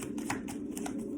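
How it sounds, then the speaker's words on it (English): Deck of tarot cards being shuffled, a brief continuous riffle of papery flicks and slaps, close and steady. "so I shuffled and this like flipped and then hit in the deck"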